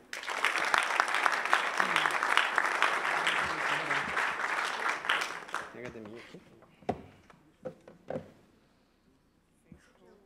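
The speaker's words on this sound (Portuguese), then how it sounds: "Palmas pro Valmir, por favor." Audience applause at an Android developer meetup swells as a loud, dense burst of clapping for about five seconds, then fades to scattered last claps while a presenter begins speaking.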